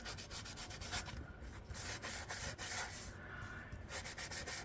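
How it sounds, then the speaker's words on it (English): A sanding block rubs across a book page to dull its glossy surface, giving steady back-and-forth scratchy strokes close up, with brief pauses between passes and no talking. "I'm just going to use my sanding block just to take some of the shine off this book page."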